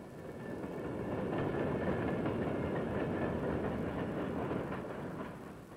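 A train rumbles along the Alaska Railroad near Mount McKinley in a continuous low roar that swells and fades slightly, with faint rhythmic clatter underneath, in 1959.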